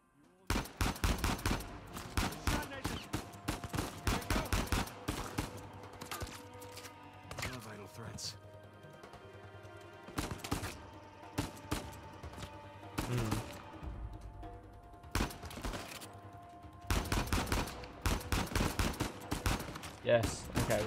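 Rapid bursts of gunfire from the PS4 game Uncharted 4, loud repeated volleys and shots in clusters with short pauses across the clip, some sharp single cracks among automatic fire.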